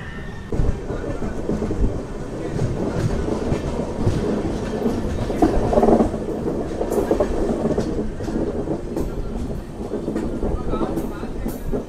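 A passenger train runs on rails along a curving route toward Erode and Coimbatore, its steady rumble and rhythmic wheel clatter close and continuous, with faint voices now and then.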